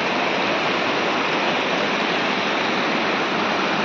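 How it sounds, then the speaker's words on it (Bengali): Water rushes steadily from a newly laid water line at a hillside picnic spot in the Dooars, a loud, constant broadband gush with no breaks and no voices. "নতুন জলের লাইন বসানো হয়েছে"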